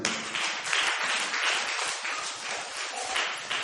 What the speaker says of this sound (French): Applaudissez-le pour lui.